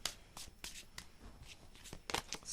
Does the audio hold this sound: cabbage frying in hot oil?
no